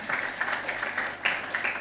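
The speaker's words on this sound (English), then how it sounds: "A round of applause" Audience applause at a health technology investor summit panel, a steady wash of clapping from a room of attendees with slight swells throughout.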